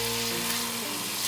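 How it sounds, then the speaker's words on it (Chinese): Minced ginger and celery sizzle in hot oil, a loud, dense crackling hiss filling the whole moment with a faint tonal hum underneath. "油热了之后，把姜末和芹菜末放进来"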